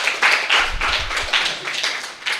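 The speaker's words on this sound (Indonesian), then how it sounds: "Beri tepuk tangan." Students clapping in a secondary school economics classroom, a loud, close burst of group hand claps with uneven pulsing rhythm that tapers slightly before a final flurry.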